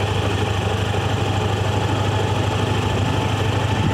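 A vehicle engine hums steadily and loudly while driving along a winding, slippery hill road through the forest of the Western Ghats, a constant close drone with no voices.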